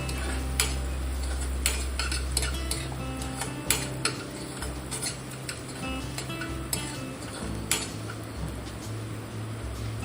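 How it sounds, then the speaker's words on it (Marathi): Chopped onion sautéed with salt in a pan, a steady sizzle under repeated scrapes and clinks of a spoon stirring against the metal, close and fairly loud with no talking. "आता यामध्ये आपण चवीनुसार थोडेसे मीठ घालणार आहोत आणि कांदा हा परत छान अगदी परतून घेणार आहोत."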